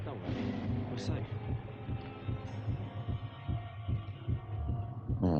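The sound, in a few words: heartbeat sound in the video game Vampyr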